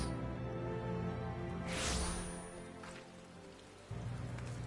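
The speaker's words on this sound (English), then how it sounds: "Ah, it's raining." Rain falling in the video game Final Fantasy XIV, a soft, even patter of drizzle with a brief whooshing gust in the middle, then quiet before the steady rainfall resumes.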